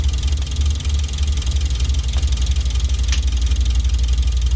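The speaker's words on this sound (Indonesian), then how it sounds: "Masih ada suara mesin mobil yang agak rusak gitu ya" A somewhat broken car engine in the video game Bus Simulator Indonesia idles in a steady, loud, low rumbling drone that holds evenly throughout with no talking.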